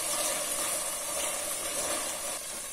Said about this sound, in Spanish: Sofreímos.